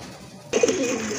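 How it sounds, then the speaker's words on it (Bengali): A pair of racer pigeons gives a sudden, brief coo that starts abruptly midway and carries close and clear over a soft background hiss. "এখানে কিন্তু এক জোড়া রেসার কবুতর দেখতে পাচ্ছেন"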